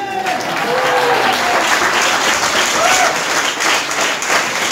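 Crowd applause for a band at a semifinal of a youth centre band contest in Langen, sustained, dense clapping that stays loud throughout with a faint whistle or cheer rising above it.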